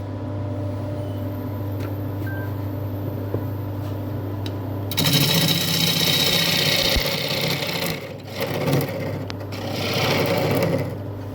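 Gouge cutting a White Mallee burl bowl on a wood lathe: a steady motor hum, then a loud, rough scraping cut that surges and fades in passes against the turning wood.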